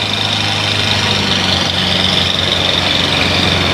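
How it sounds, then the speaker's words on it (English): A Buick Special at an indoor car show runs rough, idling in a low, uneven rumble with a constant throb and no voices over it. "There's a Buick Special there. It sounds like it's got one cylinder under the hood."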